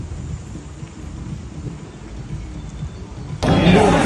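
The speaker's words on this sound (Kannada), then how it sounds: "ನೋಡಿ ಎಷ್ಟು ಜೋರಾಗಿ ಮಳೆ ಬರ್ತಿದೆ" Heavy monsoon rain in the Malenadu region near Shivamogga, heard first as a low, steady rumble like a downpour from inside a vehicle, then a sudden louder hiss of rain in the last half second.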